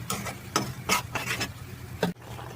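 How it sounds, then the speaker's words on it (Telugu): A spoon or spatula stirs onion paste frying in oil with fenugreek seeds for a fish curry, making a series of close, uneven scraping and sizzling strokes with no voices. "ఉల్లిపాయ పేస్ట్ వేసేసుకోవాలి. ఇది కలుపుకోవాలి. ఈ పచ్చివాసన పోయేదాకా ఏగాలి ఇది పేస్ట్."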